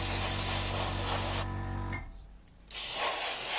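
An airbrush sprays paint onto the underside of a 1/48 scale Italeri Seahawk helicopter model kit, giving a steady close hiss that cuts off briefly and then resumes.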